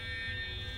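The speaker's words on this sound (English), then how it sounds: "The fire alarm? Should we be evacuating?" Fire alarm sounding continuously as a steady, high electronic buzzing tone, moderately loud over a low background hum, with no talking.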